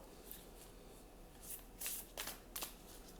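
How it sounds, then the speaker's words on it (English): Cards from a Whispers of Love oracle deck are shuffled and one is drawn: a faint, soft riffling that builds into several quick, crisp bursts near the end, with no talking. "I'm just going to pull a card from this Whispers of Love deck here."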